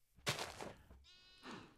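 Two bleats from Minecraft sheep, a harsh wavering one followed after a pause by a second, clearer bleat, close and moderately loud with no one talking.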